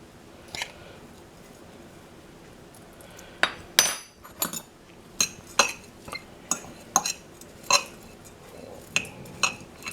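Dry finch egg-food mix tipped into a dish: after a quiet start come a run of sharp clinks and taps, close and fairly soft, with short rustling scoops between them and no talking.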